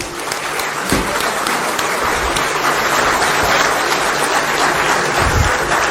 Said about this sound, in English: can we have a round of applause, thundering applause, please, from everybody?